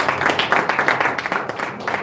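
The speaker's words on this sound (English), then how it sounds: "Please a round of applause for them." Applause for two vice presidential candidates at a political press conference, a steady dense patter of clapping hands from a crowd, moderately loud and continuous without a break.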